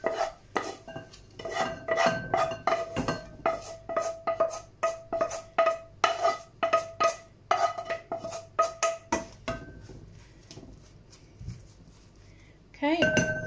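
Spinach cooked with garlic being scraped out of a pan into a bowl for a spinach and ricotta lasagne, a run of sharp metallic clinks and scrapes from utensil against pan, close and fairly loud, fading to quiet near the end.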